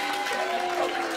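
A studio audience on a comedy game show about a taekwondo champion boos continuously, a dense steady crowd noise with voices mixed in throughout the short moment.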